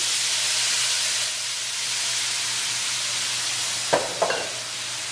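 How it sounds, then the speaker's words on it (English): Beef bouillon poured over browned chicken in a hot pan, giving a steady loud sizzle and hiss with a couple of brief clinks near the end, close up, with no speech. "We're adding to it a third of a cup of beef bouillon"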